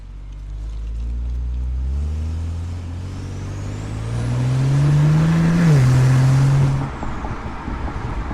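A BMW F10 535i with a valvetronic exhaust driving with the valves closed, giving a loud, steady low engine drone that swells as it accelerates, then eases off near the end.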